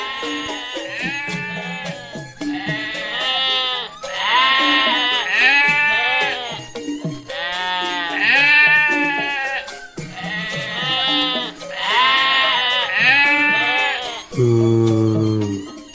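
Cartoon goats bleat repeatedly in loud, wavering calls over a livestock market scene during a Betawi Ondel-ondel holiday cartoon, with a short low tonal sound at the end.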